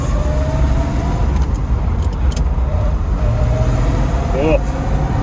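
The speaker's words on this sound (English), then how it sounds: "I am going to give it a little bit of gas." A 1964 Chevrolet Corvette with a 350 engine runs through its gears, giving a steady, moderately quiet engine drone from inside or near the car, with people talking over it.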